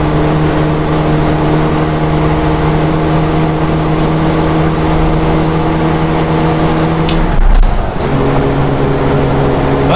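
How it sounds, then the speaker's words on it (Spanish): A Freightliner Argosy 6x6 truck engine idles with a steady low diesel drone and faint whine, loud and close, then a brief hiss and shift near the end before settling again. "Escuchemos el motor."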